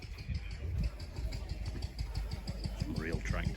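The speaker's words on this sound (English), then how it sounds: "Some real tractors here." Tractor engines idle on a farm with a low, steady rumble and rhythmic low thumps, alongside traffic noise and some talk in the background.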